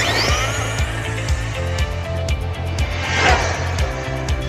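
A tuned radio-controlled car, fitted with an upgraded speed controller, runs at speed with a loud, steady motor whine and buzzing drivetrain hum that rises and falls as it passes, with a louder surge near the end.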